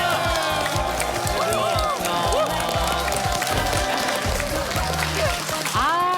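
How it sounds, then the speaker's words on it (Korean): Studio audience applause and cheering greet guests arriving on a Korean TV health variety show, a dense, steady clatter of clapping with crowd noise and musical tones running throughout. "여러분 큰 박수로 환영해 주십시오"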